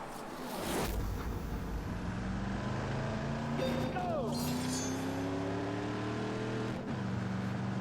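Chevrolet Corvette sports car driving in The Grand Tour Game, a steady engine drone running throughout beneath music and game effects, with a brief rising whoosh near the middle.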